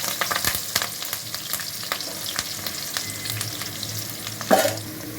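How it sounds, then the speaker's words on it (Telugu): Curry leaves fry in oil in a pan, giving a continuous crackling sizzle with repeated spatula strokes and clicks. A brief louder scrape comes near the end. "ఆయిల్లో మంచిగా ఫ్రై చేసుకోవాలి."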